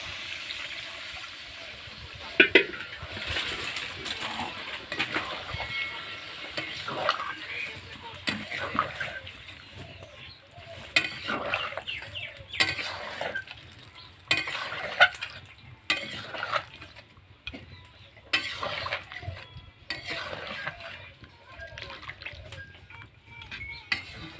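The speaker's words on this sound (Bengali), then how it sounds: "আমার কষা হয়ে গেছে, একটু হালকা গ্রেভি করবো, তার জন্য আমি জল দিয়ে দিচ্ছি" Water is poured into poultry curry in a cooking pot, splashing and sizzling under steady stirring and scraping, close and moderately loud with clattering knocks throughout.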